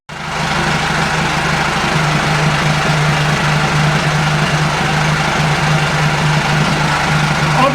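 A boat engine runs loudly and close, starting abruptly and then holding a steady, heavy low rumble with a fast regular throb, unchanging throughout and with no talk over it.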